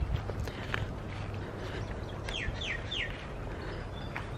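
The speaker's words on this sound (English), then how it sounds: "Got a few bird sounds now." Birds calling in a tropical Port Douglas street garden, a few short bright chirps in a quick series, fairly faint against a steady wash of traffic noise.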